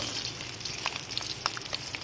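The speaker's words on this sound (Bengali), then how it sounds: "ডিমগুলো ভাজা হয়ে গেছে, তুলে নেব।" Eggs frying in a pan for an egg curry, a steady close sizzle with small crackles and pops spread through two seconds.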